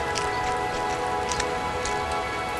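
Steady rain falls on a surface, a dense continuous patter with scattered brighter drop ticks, even and close throughout with no voices.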